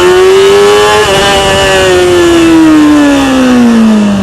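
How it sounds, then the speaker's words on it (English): A motorcycle pulls away hard in first gear for a wheelie, its engine loud and close, revving high and holding a strained, rising-then-falling drone for several seconds with no talk. "Take off first gear, open the throttle, front comes up"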